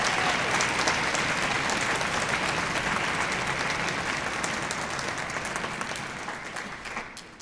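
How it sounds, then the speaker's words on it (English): At a high school honor band concert, a large audience claps in a full, even round of applause that gradually softens toward the end. "So just a big round of applause for why the arts matter."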